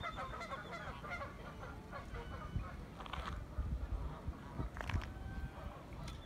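Many geese honk repeatedly in a noisy flock at Tule Springs Ponds, overlapping calls at moderate distance with a steady outdoor background.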